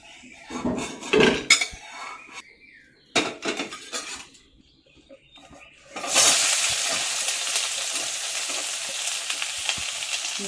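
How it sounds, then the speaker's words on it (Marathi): Onion goes into a pan after roasted coconut for a Konkani-style prawn curry. Several utensil clanks and clatters come first, then a loud, steady sizzle takes over and holds to the end. "आपण कांदा चांगला परतून घेऊ, लाल होईपर्यंत, गुलाबी रंग येईपर्यंत चांगला परतून घ्यायचा"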